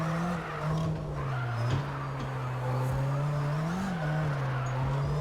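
A car spins out in a racing video game played on a Moza R5 wheel, a steady engine drone with wavering tire squeal and skidding running continuously and fairly loud, with no talk over it.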